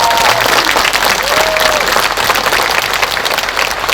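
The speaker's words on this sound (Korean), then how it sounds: "박수 한번 부탁드립니다." A large crowd applauds at the closing ceremony of the Asian Athletics Championships in Gumi, dense steady clapping that fills the whole stretch at close range, with a faint voice briefly audible underneath.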